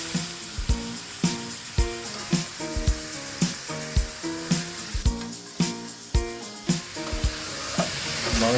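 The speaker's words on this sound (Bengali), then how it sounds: "মাংসটা দিয়ে সেটাকে নেড়ে চেড়ে ভালো করে ভেজে নিতে হবে।" Beef frying in ghee with cinnamon and cardamom for Peshwari meat, a continuous sizzle broken by regular, sharp knocks and scrapes of a spoon stirring against the pan, roughly one every half second.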